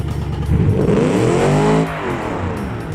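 A loud 5-liter dual overhead cam V8 car engine in the video game BeamNG revs up steadily, roaring higher before easing off into a lower, sustained growl, heard up close with no voices.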